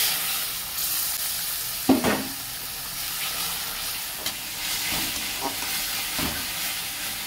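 Water is poured into ground spice paste frying with nigella seeds in a pan for a spicy fish and cauliflower curry. A loud, continuous hissing sizzle is punctuated by a few sharp spoon knocks and scrapes as the mixture is stirred.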